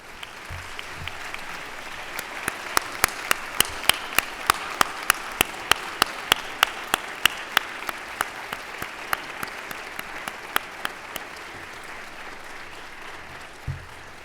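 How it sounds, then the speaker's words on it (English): A standing audience at a university convocation ceremony gives a sustained round of applause, dense steady clapping from a large crowd in a hall that fades toward the end. "I would like you to all stand and give a round of applause while thinking of all of those who got you here today."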